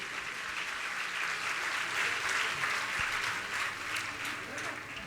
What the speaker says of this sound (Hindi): ताली बजा के सम्मान करें।